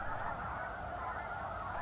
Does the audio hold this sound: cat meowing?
no